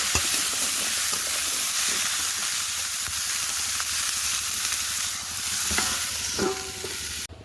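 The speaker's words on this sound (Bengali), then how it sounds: "এবার একটু ভালো করে নাড়বো, নেড়ে হাত ঢাকা দিয়ে কষাই করে সবজিগুলো।" Vegetables seasoned with salt and turmeric frying and being stirred in a pan, giving a steady, loud, close sizzle throughout, with repeated scraping stirs toward the end and no voices.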